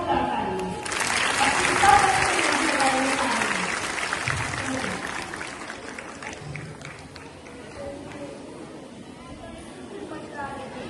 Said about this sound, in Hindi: इस सावत के लिए एक जोरदार ताली है।